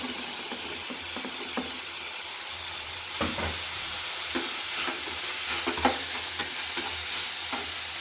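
Chopped capsicum is added to a sizzling egg dish in a hot pan and stirred, producing continuous frying crackle with repeated scraping and stirring clatters that grow more frequent and louder partway through; no talking.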